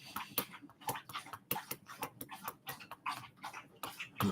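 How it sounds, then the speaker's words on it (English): A dog laps water in quick, wet, rhythmic clicks and slurps, close by and repeating steadily for several seconds. "that's her having a little drink"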